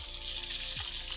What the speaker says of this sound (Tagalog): prito-prito natin yan guys, kasi masarap yan iprito